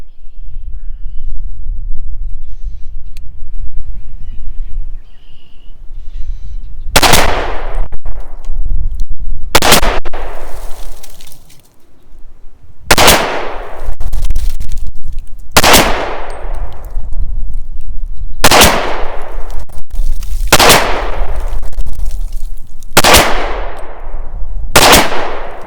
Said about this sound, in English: Let's see how the pistol does at 50 feet.